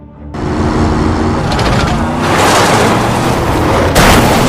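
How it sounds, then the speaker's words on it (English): A speeding car in a movie scene strikes a bridge barrier and flips over, producing a loud sustained roar of crashing impact and scraping metal, building to a heavier hit near the end. "Because Broker's car is too fast and hits the bridge barrier, Broker's car flips over"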